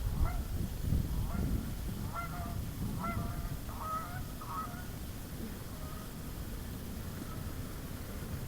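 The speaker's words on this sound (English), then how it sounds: "the geese for some reason are finally coming back" Migrating geese honk in a loose series of faint, distant calls over steady outdoor background noise, clustered early and thinning out toward the end.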